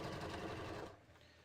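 Sewing machine stitching a dart in a bodice, a brief steady mechanical whir that cuts off after about a second, leaving a quiet room.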